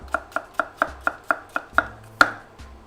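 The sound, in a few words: knife slicing a yellow onion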